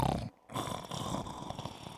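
A man imitates snoring with his voice as a radio sound effect, giving a rough, rattling snore that pauses briefly and then resumes, fairly quiet and close.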